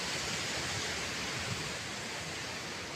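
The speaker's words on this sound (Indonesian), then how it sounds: "ombaknya besar sekali di sini" Ocean waves roll onto the beach at Semeti on a hot, sunny day, a continuous loud broadband surf roar with no clear breaks and no voices.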